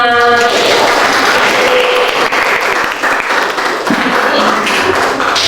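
Applause from a classroom audience after a teacher's fruit salad lesson, a dense, loud wash of clapping hands that carries on steadily with a brief dip near the end, with some voices mixed in.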